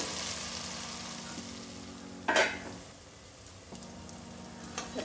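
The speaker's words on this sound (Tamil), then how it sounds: "தக்காளி கொஞ்சம் குக்க ஆகட்டும்" Tomatoes frying in a pan for a chicken broccoli gravy, a soft steady sizzle with a brief louder clatter of stirring midway, otherwise quiet and close.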